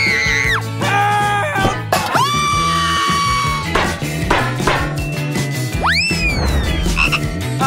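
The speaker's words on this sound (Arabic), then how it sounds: "لقد أدركت أن لدي ضفدع حقيقي تحت الغطاء." A real frog croaks in several loud, close calls with sharp rising and falling pitch, heard in an indoor setting during a chocolate-versus-real food challenge.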